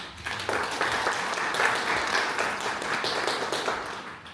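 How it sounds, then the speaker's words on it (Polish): An audience at an aquarium show event applauds, a moderately quiet, steady wash of clapping from many hands lasting several seconds, heard at some distance with no talking over it. "Wielkie brawa."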